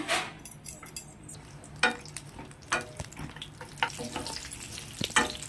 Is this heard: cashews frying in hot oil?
yes